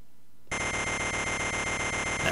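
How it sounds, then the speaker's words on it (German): Alarm clock ringing in the Wario Land 2 video game, a harsh buzzing electronic chiptune ring that starts suddenly after a brief silence and continues steadily and loud. "Ach, der Wecker, der lässt ihn kalt."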